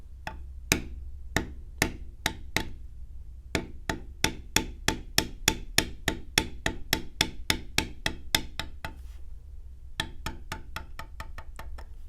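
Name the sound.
beveling leather tooling line with mallet strikes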